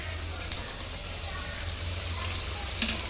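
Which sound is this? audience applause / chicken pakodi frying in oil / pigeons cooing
chicken pakodi frying in oil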